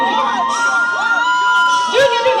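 A crowd at a Bhogali Bihu celebration in Biswanath shouts and cheers together, loud and close, with children's voices joining in a sustained burst of whoops.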